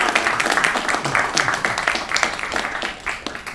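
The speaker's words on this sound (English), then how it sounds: "to applaud and acknowledge our 6 panelists" An audience claps for six panelists at a digital media panel, giving a continuous, fairly loud round of applause with a voice faintly mixed in.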